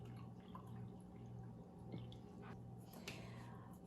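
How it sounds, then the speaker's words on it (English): Warm water poured for flatbread dough, a faint wet trickle and drip with small splashes over a quiet kitchen background hum. "I'm going to pour in half a cup."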